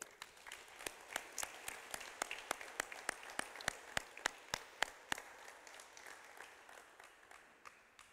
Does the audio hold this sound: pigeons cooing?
no